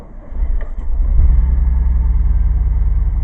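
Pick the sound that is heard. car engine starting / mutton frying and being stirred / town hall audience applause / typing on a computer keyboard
car engine starting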